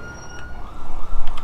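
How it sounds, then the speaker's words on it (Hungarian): A police siren wails in the street in the video game GTA V, loud and fairly close, swelling toward the end. "Halljátok a rendőrt? Vagy az mentő?"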